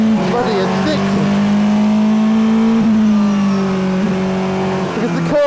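A Porsche GT2 RS on a track revs hard and loud, its engine note climbing steadily, dipping briefly at a shift, then pulling up again, with tyre noise beneath the engine.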